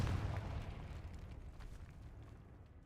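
A Confringo fire-spell explosion in the video game Hogwarts Legacy, a broad, low booming rumble that starts strong and slowly fades over a few seconds.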